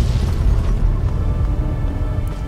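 A heavy explosion booms in the video game Fallout 3, a deep rolling rumble that fills the whole stretch and slowly settles, with no talking.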